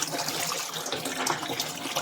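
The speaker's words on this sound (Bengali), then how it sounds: "আর এখন এখানটা শাক বসাই দিব, আরেক ধোয়া দিলেই হয়ে যাবে" Leafy greens are washed under running water, giving a steady, close splashing and trickling sound throughout.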